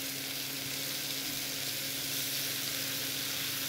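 Venison loin sears in a hot pan, giving a constant, close sizzle and crackle of fat with no break.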